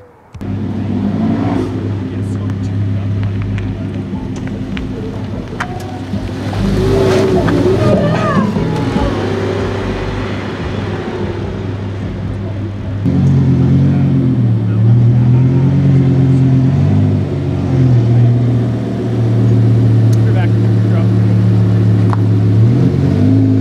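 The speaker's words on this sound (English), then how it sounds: "This absolutely gorgeous Lamborghini Huracan just showed up." A Lamborghini Huracan's engine drones loudly and steadily nearby, its pitch rising and falling as it revs, with voices faintly under the engine.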